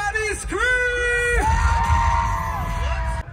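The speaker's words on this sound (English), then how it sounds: "Burmese side, somebody scream." A crowd at an outdoor Holi celebration in Queens screams and whoops, with several voices yelling in rising and falling shouts together, loud and close throughout.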